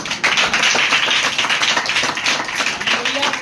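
A church congregation claps together in a steady, dense burst of applause, loud and close, continuing without pause for a few seconds.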